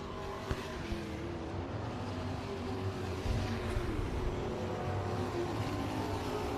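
A race car engine drones on a speedway track at Murray Bridge, a faint, distant, continuous rumble with a slight rise in intensity partway through, carried under a steady background noise.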